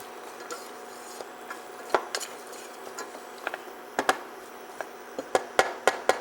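A spoon stirring garlic and carrots in a cooking pot: scattered sharp clinks and scrapes against the pot, irregular and fairly close, growing more frequent toward the end over a low kitchen hiss.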